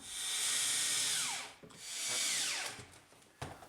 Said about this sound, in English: use a power drill, come in from the backside through the plastic into that wood spacer